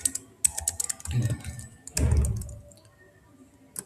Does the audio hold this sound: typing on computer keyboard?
yes